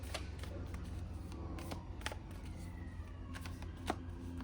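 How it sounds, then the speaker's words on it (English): Faint emergency vehicle sirens wail far off outside an open window, thin and distant beneath a low, steady background hum. "Oh, now there's sirens."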